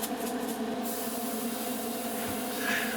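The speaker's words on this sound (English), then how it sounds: "I'm now spraying the same base camouflage colour again" Steady airbrush hiss of camouflage paint being sprayed over a salted scale model, a continuous near and even spray running throughout with a faint low hum beneath.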